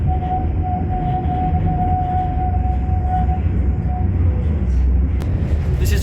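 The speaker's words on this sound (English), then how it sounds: "Oh, my tram's actually here." A tram pulls into a stop in Amsterdam, a steady low rumble of wheels and motor with a long sustained tonal whine, close and continuous, ending with a brief high screech as it comes to rest.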